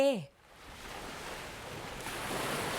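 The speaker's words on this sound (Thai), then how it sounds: "2. ชายทะเล" After a brief tonal chime at the very start, steady seashore waves take over, a broad washing surf that swells slightly louder toward the end, with wind hiss mixed in and no talking.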